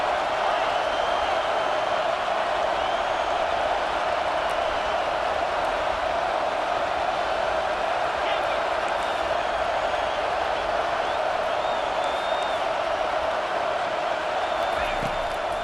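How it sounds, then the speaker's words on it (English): A football stadium crowd roars as the defense lines up on third down, a steady, loud wash of massed cheering that keeps up with no break, with commentators' voices faintly mixed into it. "Decibels rising as the crowd gets behind this defense on 3rd down."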